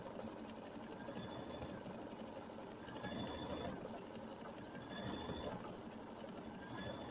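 An embroidery sewing machine stitches a quilting border in a quiet, continuous mechanical whir with a faint rhythmic chatter and occasional high whines.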